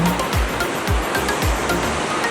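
A waterfall at Wulai, Taiwan, a broad steady roar of rushing water heard up close, with low thumping surges that recur every half second or so beneath the continuous wash.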